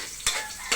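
Onion and garlic sizzle steadily in a hot pan for adobong manok, a continuous close hiss broken by two brief scraping stirs.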